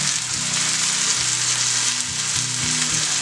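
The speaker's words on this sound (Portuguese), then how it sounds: "Então vamos colocar o tomate e o pepperoni. E vamos fritar até que o tomate amoleça." Tomato and pepperoni fry in a pan with a steady, loud sizzle, and a low rhythmic hum runs beneath it with no one speaking.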